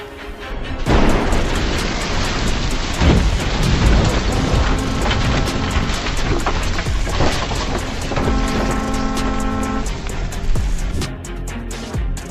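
Steady heavy rain pours throughout a night thunderstorm in New Market, Alabama, with deep rolling thunder rumbling in the foreground, loud and close, swelling and fading across the storm.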